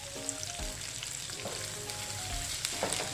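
Curry leaves and onion sizzle in hot oil with a dense, close crackle and a few sharp pops. Nobody speaks.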